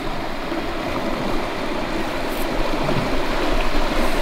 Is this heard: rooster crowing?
no